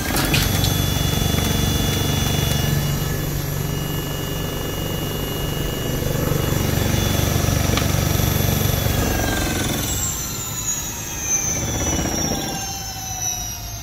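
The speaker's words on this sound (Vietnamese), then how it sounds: "bây giờ mình sẽ ga thử cho các bạn cùng xem nhé" A Feliz scooter fitted with an APT 72330 IC controller is throttled up in Sport mode, giving a loud, steady whining drone with rising tones near the end, heard close and with no talking.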